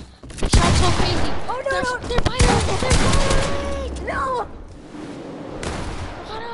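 Rapid gunfire bursts and explosions in the video game Fortnite, loud and close, with excited voices shouting over the shooting throughout.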